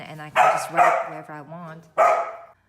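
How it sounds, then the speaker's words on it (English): A small dog barks and yips several times close by, interrupting a person speaking. "Sorry about the barking. I just got a new puppy."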